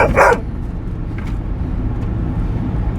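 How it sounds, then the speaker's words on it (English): A dog gives one short, loud bark near the start, followed by faint background noise and a couple of soft sounds. "I don't want to hear any more barking"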